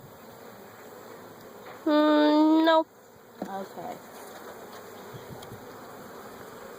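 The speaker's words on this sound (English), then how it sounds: "Bees, get off of me. Just get off of me." Bees buzz around a beehive. One loud, close buzz lasts about a second, then fades to a quieter hum under brief speech.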